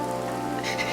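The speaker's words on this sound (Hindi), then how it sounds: "बाहर बारिश लगातार बरस रही थी" Steady rain falls outside as a soft, even wash of patter with no pauses, and nobody speaks.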